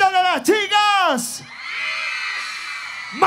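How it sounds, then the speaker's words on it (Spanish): Women in the crowd at an anniversary concert in Azángaro let out loud whoops and shouts, and a sustained cheer swells briefly before another yell at the end. "¿Dónde está el grito de las chicas?"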